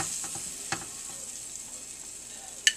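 Steak sizzling in a frying pan, a quiet steady crackle and hiss with a few soft clinks, and one sharper tap near the end.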